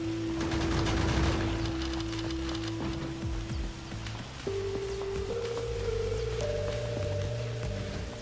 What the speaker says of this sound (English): Gun turrets should take care of it.